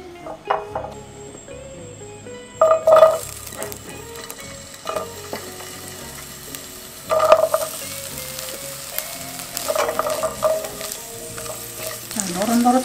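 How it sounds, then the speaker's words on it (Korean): Garlic scapes stir-fry in oil in a pan with a steady close sizzle, broken by occasional utensil clinks and scrapes against the pan. "노릇노릇하게 볶아주시면 돼요."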